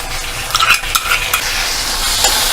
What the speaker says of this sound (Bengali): ভালো করে মশলাটার সাথে মিশিয়ে নেব